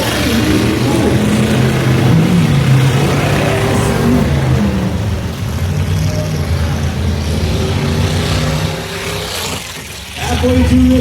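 Baja trucks racing into turn 4 on a county fair dirt track in Warren, Minnesota, engines droning and revving steadily at mid distance, fading slightly toward the end, beneath an announcer's running commentary.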